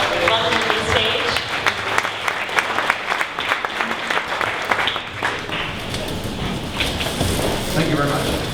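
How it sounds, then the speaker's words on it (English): Sustained applause from an audience at a 1 Million Cups Dallas startup event, welcoming a PR agency presenter to the stage; dense, steady clapping fills the room throughout with some crowd murmur. "let's stand up and give a big round of applause to Martin of Pitch PR"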